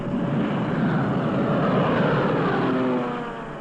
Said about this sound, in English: Day after day, the Allied reconnaissance planes scoured the European continent.